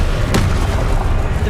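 A Confringo fire spell bursts in Hogwarts Legacy, one sharp explosive crack near the start followed by a dense, rumbling wash of game noise that stays loud throughout.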